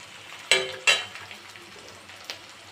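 Momos for a mixed momo dish fry in a pan with a quiet crackling sizzle, broken by two sharp scraping strokes early on and a lighter one near the end.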